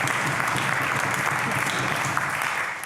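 Steady, dense applause fills a legislative chamber during question period, a broad even clatter of many hands sustained throughout without letting up.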